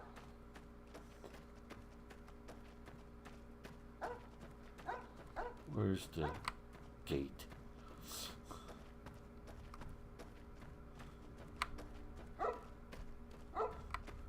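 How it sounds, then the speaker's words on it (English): A dog barks in the video game Fallout: New Vegas, a few short barks and yips scattered over a constant low game hum, with someone talking in between. "What are you barking at, dude?"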